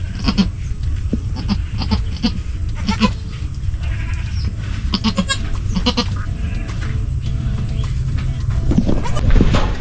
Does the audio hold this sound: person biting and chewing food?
no